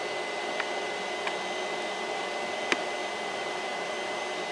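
A Geeetech A20M 3D printer prints a Pikachu figure, giving a steady broadband whir of fans and motors with a few faint ticks and one sharp click.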